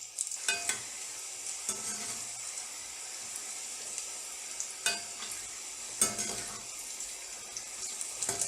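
Namak paray dough pieces fry in hot oil, a soft, steady bubbling hiss with a few sharp clinks and stirring clatters at irregular moments, fairly quiet and without speech.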